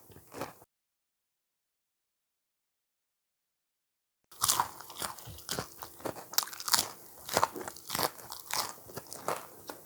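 Crispy fried banana fritters (kluai khaek) crunch sharply in repeated close bites and chews after a brief silent gap, each bite a loud crackly burst.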